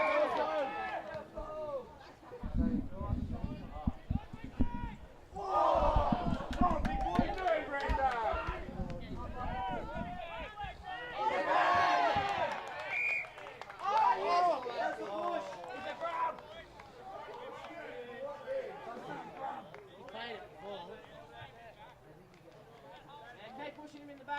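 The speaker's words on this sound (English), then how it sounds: "And the crowd very vocal here, getting right into this match." Spectators at a reserve grade basketball match between Grafton Tigers and Coffs Harbour Breakers shout and cheer in bursts, with running footsteps on the court and a commentator talking over the crowd noise.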